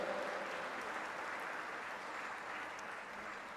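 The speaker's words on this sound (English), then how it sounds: "Please give a huge round of applause." A conference audience at an endowment lecture series applauds in a steady, fairly quiet wash of clapping that continues evenly for several seconds with no voices over it.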